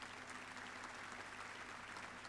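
Steady applause from a snooker video game crowd fills the scene, a continuous even patter of clapping at moderate, fairly distant volume.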